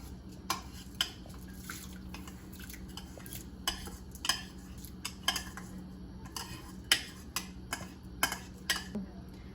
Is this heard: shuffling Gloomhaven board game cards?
no